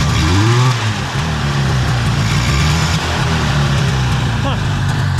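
Arctic Cat Panther snowmobile engine fitted with a swapped-in Mikuni carburetor runs at a steady, loud idle up close, a continuous low rumble throughout.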